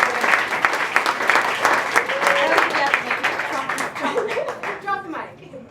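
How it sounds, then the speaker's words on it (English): Audience applause and clapping fill a comedy or storytelling show in a small venue, loud and dense, then thinning out toward the end as a voice begins to speak. "Big round of applause for Misty."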